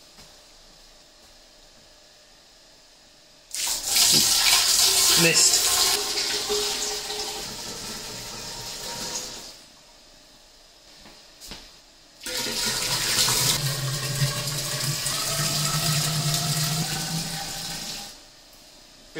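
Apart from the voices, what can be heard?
warm water pouring into an 18 litre keg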